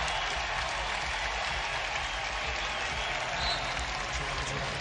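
A packed basketball arena crowd at an NCAA game cheers and applauds, a dense, loud, sustained roar of clapping and voices.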